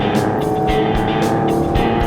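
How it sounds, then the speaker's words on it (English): A Porsche 996 C4S with a different rear silencer hums steadily from the cabin while driving, a continuous engine drone with road roar and faint pulsing, no talking. "The engine sounds great. I think this has got a different back box."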